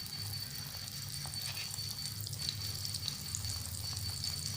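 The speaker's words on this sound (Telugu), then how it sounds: "ఈ విధంగా నూనెలో ఒక్కొక్కటే వేసుకొని వేయించుకోవాలా" Dried fish (karvadu) frying piece by piece in hot oil in a kadai, a steady close sizzle with a constant hiss and faint crackles running throughout, with no talk.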